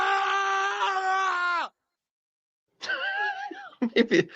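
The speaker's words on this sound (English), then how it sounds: "We got a screaming man." A man's screaming sound effect fires from a stream soundboard, a long sustained wailing yell, then a pause of silence before a second wavering scream and shorter bursts, loud and close.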